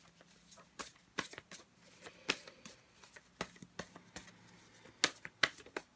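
Tarot cards being shuffled by hand, with quiet, irregular riffling flicks and soft snaps arriving in bursts near the listener, in an otherwise quiet room with no talk.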